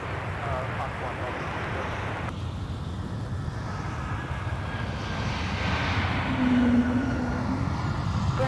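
Airbus A220 airliner at a busy airport, its steady jet engine roar filling the scene and swelling slightly louder toward the end, with people talking over it.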